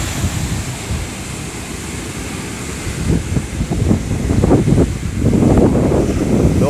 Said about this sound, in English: Those outside waves there,